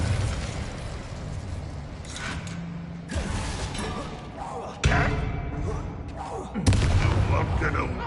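Bombarda spell explosions in the video game Hogwarts Legacy, several heavy booming blasts and thuds spaced a couple of seconds apart over a busy mechanical combat background.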